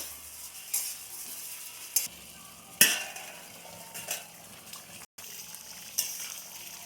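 Posto (poppy seed) curry is stirred in a pan on the stove: a handful of soft spoon scrapes and clinks spaced a second or so apart over a faint, steady sizzle.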